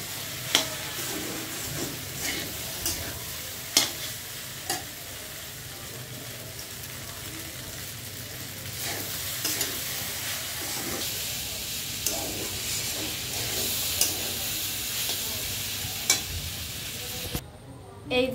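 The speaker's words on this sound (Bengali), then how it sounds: "পাস্তা রান্না করছে" Pasta cooks in a pan while it is stirred, a steady sizzling hiss with recurring scrapes and clicks of the utensil and a soft voice now and then in the background.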